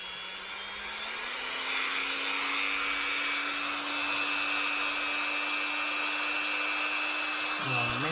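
A drill bores a hole for the lead weight in a handmade squid jig, giving a steady close whine that rises slightly in pitch at the start and holds for several seconds.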